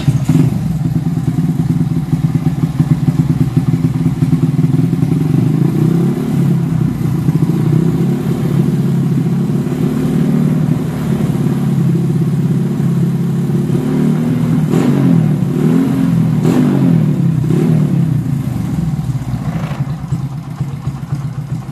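A Honda Supra X 125 motorcycle engine runs at a steady, close idle with a low putter, lightly blipped a few times toward the end, and no voices over it.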